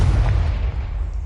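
A Confringo spell explodes in Hogwarts Legacy as a single deep, rumbling boom that hits hard at once and then rolls off over about a second, with no speech.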